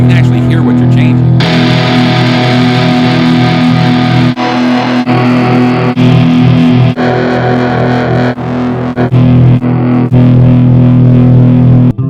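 Electric guitar played through a LEKATO Cube Baby multi-effects pedal with amp models and loadable IRs, giving a loud, distorted tone with chorus-like shimmer in sustained chords broken by short pauses and strums.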